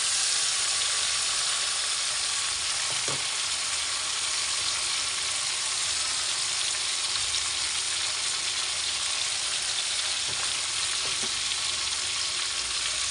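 Chicken pieces fry in a pan for a Ramadan iftar dish, giving a steady, even sizzle that runs unbroken throughout, with a couple of faint knocks of a utensil partway through.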